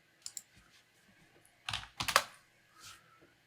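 Quick bursts of keystrokes on a computer keyboard as a terminal command is entered, a few scattered taps followed by a denser cluster of clicks, close and fairly quiet, with no talk.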